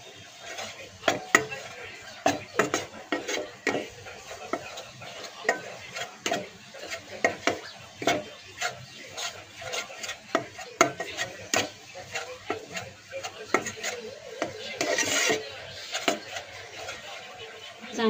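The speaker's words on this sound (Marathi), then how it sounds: "आणि मैदा आपण ह्या बटरमध्ये चांगलं भाजून घ्यायचं आहे" Flour roasting in melted butter in a pan, stirred continuously with a spoon, producing a quiet, busy stream of scraping clicks and taps over a faint sizzle.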